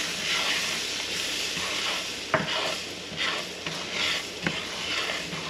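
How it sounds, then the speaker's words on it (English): Ginger sizzling in a hot pan for Japanese curry, with the heat switched off. A steady, bright hiss carries throughout, with a few light clicks of stirring utensils and no talk. "So we're going to add our ginger."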